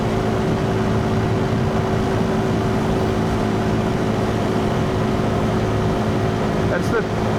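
A KTM 390 Duke engine drones steadily while riding, a loud, constant hum mixed with rushing wind and no change in pace.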